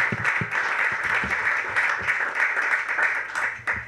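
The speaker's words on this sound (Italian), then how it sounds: "Salutiamolo con un applauso." Audience applause in a university lecture hall welcoming a professor from the University of Calabria, a steady dense wash of clapping that carries on evenly throughout, with a few louder individual claps standing out near the front.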